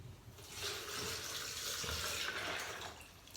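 Water running steadily for about three seconds as it fills a container for homemade cardamom ginger almond milk, a soft continuous splashing stream at moderate distance with no talk.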